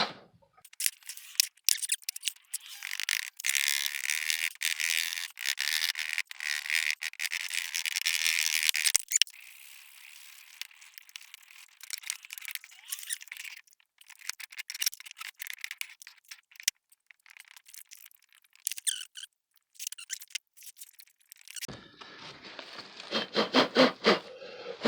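Foundry casting sand being dug and scraped close up, making dry gritty scratching and rubbing bursts in an irregular rhythm, with no talking.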